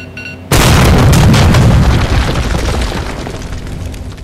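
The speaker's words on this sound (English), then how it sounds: "But sure, more explosions, why not?" In the video game The Darkness II, a sudden loud explosion bursts in after a brief quiet moment, followed by a rumbling, crackling roar that slowly fades.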